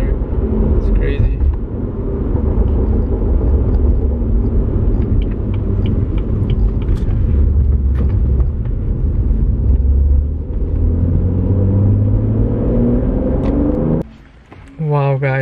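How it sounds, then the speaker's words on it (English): BMW F30 with a tuned transmission under hard acceleration, steady loud engine drone through fast upshifts, with brief exhaust burps at each shift and a sharp drop near the end; people talk over it. "You could almost even hear it on, like, the upshifts when it burps the exhaust"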